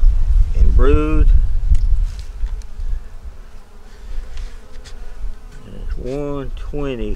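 Honeybees in a small nucleus hive hum as a low, steady buzz during an inspection. A person speaks briefly at the start and again near the end.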